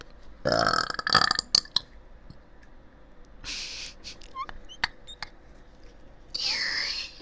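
A close, loud burp while eating an Arby's meal, with a couple of shorter eructations and soft mouth and rustling sounds in between before another burst near the end.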